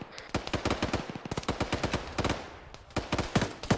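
Enemy gunfire in the ARMA 3 military shooter cracks out in loud, rapid automatic bursts, close and sharp, with short gaps between volleys and no talking.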